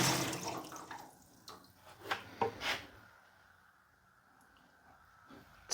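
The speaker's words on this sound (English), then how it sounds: "let's get some water in here" Water splashes and pours into the tray of a Harbor Freight plasma welding table, a gushing burst up front that thins into drips and trickles, close by and with no talk.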